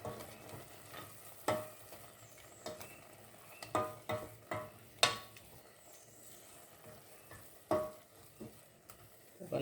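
A spoon stirring a coconut mixture in a pan while it cooks for coconut rolls, with a low steady sizzle and scraping sounds punctuated by several sharp knocks of the spoon against the pan.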